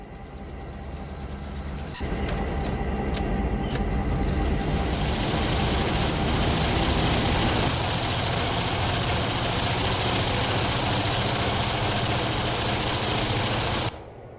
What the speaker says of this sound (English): All right, we're on the back of the train.